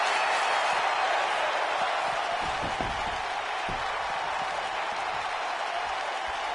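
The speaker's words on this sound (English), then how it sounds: "I agree with the crowd. This place is going bananas for these two." Loud, steady roar of a wrestling arena crowd cheering and applauding in WWE 2K19, a dense wash of noise sustained throughout with no clear breaks.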